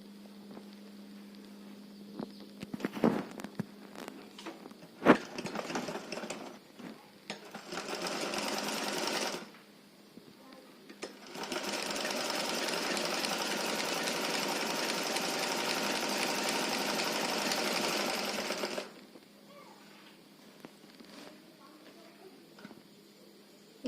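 A sewing machine stitching the side seam of a dress made from an old saree runs in two steady whirring stretches, a shorter one then a longer sustained run, with a low hum and faint clicks between.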